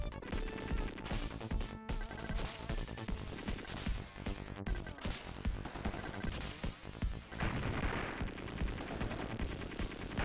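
Dense, continuous gunfire and explosions from the Contra Hard Corps video game, rapid repeated shots layered over busy game music and effects, loud and unbroken throughout.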